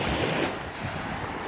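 Lake Erie water laps and bubbles at the shore in Kingsville, Ontario, a loud, close, steady wash of water with wind noise.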